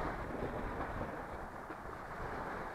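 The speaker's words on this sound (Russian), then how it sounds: "Где-то в море там громыхает." Distant thunder rumbles low and steady over the sea during light rain, a faint, continuous roll heard from afar with a soft hiss of rain and wind.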